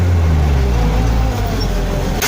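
A tractor engine runs steadily while pulling a lowered cultivator, a loud close low-pitched drone with a firm rumble, ending in a brief clatter.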